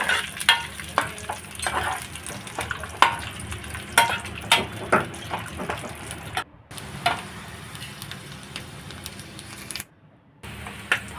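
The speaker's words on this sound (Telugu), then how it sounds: "ఇప్పుడు ఒక ప్యాన్ పెట్టుకొని రెండు స్పూన్ నెయ్యి వేసుకొని డ్రై డ్రై ఫ్రూట్స్ మొత్తం దోరగా వేయించాలి" Dry fruits frying in a pan with two spoons of ghee, a soft sizzle under repeated scraping and clacking strokes of a spoon as they are stirred, fairly close and with no voices.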